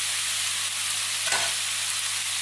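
Bean sprouts, garlic sprouts and green and red peppers stir-fry in a hot wok, giving a steady loud sizzle with a brief scrape of the spatula midway.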